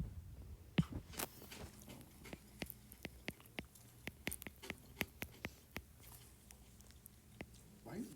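Someone chews crunchy food close by, sharp irregular crunches and bites popping out over a quiet room, with a faint voice murmuring in the background.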